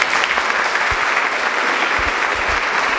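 A congregation at a Catholic prayer group gathering in a church applauds after the Gospel reading, with a sustained, even wash of many hands clapping together, fairly loud and unbroken.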